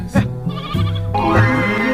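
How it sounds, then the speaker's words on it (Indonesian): Goats bleat in a short close-up burst, two healthy, plump goats being herded to market, their wavering cries overlapping loudly with no talk. "Pergilah Pitung ke Tanah Abang sambil menggiring 2 ekor kambingnya yang akan dijual"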